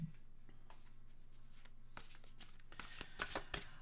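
Tarot cards are shuffled and drawn by hand, a close, soft rapid riffle of card edges with scattered flicks and slaps that grow busier toward the end, faint steady hum underneath.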